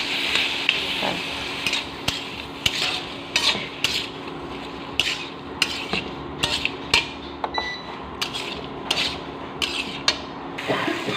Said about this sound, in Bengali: এবারে আলুগুলো দিয়ে দেবো তারপর ভালো করে নেড়ে নিই